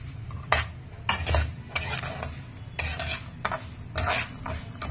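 Bansi rava semolina roasting in a pan until brown, with a spoon scraping and stirring in bursts every second or so over a faint steady sizzle, close and moderately loud with no talk.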